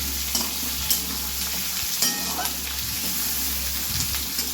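Potatoes and onions fry together in oil, a constant close crackling sizzle broken by periodic stirring scrapes, with a low steady hum beneath.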